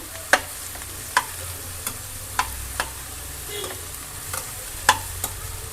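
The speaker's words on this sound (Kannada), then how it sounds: "ಹೀರೆಕಾಯಿ ಕಟ್ ಮಾಡಿ ಇಟ್ಕೊಂಡಿದ್ದೆ ಕ್ಲೀನಾಗಿ ತೊಳೆದು ಅದನ್ನು ಸೇರಿಸ್ತಾ ಇದ್ದೀನಿ ಇದು ಒಂದು ಸಲ ಚೆನ್ನಾಗಿ ಮಿಕ್ಸ್ ಮಾಡ್ಕೋಬೇಕು" Chopped ridge gourd added to a hot pan and mixed, a low steady sizzle punctuated by sharp spoon-on-pan knocks every second or so, close and without voices.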